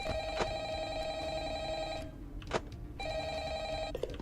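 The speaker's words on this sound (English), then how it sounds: "Alright, time for the best phone call." Telephone ringing in the video game Five Nights at Frickbear's 3: loud repeated electronic rings in two bursts separated by a short pause, heard alone with no talking.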